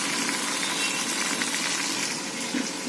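Mint leaves sautéing in a pan for vegetable biryani rice, a steady, close frying sizzle with a hissing, watery texture running evenly throughout, no voices.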